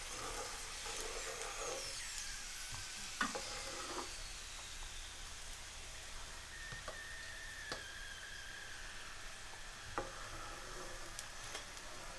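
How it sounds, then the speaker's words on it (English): Soft, steady sizzling of an aloo paratha frying in desi ghee, with occasional light taps and scrapes of a utensil. "Those edges which we have pasted together will start frying very nicely with this technique."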